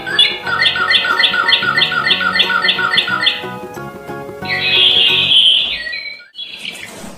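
Toy birds give rapid, repetitive electronic squawks and chirps in a steady rhythmic burst, then a louder shrill squawk, close and loud with no talking.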